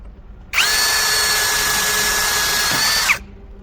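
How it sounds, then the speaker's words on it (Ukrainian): A Grosser GCD 520Q cordless drill bores a 3 mm hole, its motor whining loud and steady for about two and a half seconds before cutting off, with nothing else heard. "3 мм спробуємо просверлити і ним отвір."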